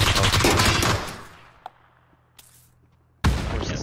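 A loud burst of automatic gunfire from the video game PUBG on the Haven map rattles for about a second, then dies away. A couple of faint isolated shots follow before another loud blast cuts in.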